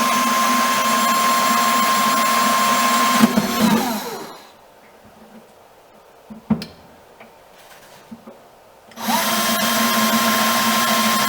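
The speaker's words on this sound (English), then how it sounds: "now I have my 4 holes drilled and then the main hole for the cables." Power drill boring holes in a boat for a Raymarine ST1000 autotiller installation: a loud, steady whining drill run, then a stop with a quiet gap and a few small knocks, then the drill whines up again.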